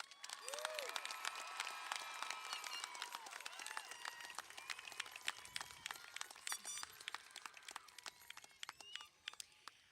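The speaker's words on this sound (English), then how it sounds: "Let's give them a round of applause" A large audience at a high school graduation ceremony for the class of 2024 claps in sustained, dense applause that holds steady and then thins slightly toward the end.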